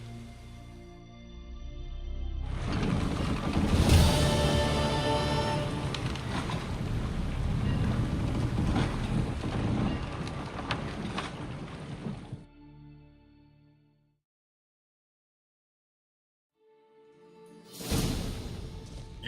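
A sailing ship heads out to sea on the way to Undvik in The Witcher 3, with a broad rushing swell of wind and water that builds, fades to near silence, then surges back briefly.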